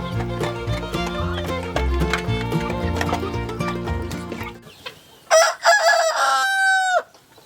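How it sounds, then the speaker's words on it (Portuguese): A white naked-neck rooster on a poultry farm crows loudly in one long, rising and falling call near the end, after several seconds of steady background music. "esse galo de pescoço pelado branco, né? Um belo polaco."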